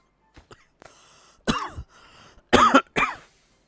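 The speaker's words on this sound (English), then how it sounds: "Sorry for the cough there." Several sharp coughs and throat clears from one person close to the mic, a small cluster of quieter coughs first and then three louder bursts near the end.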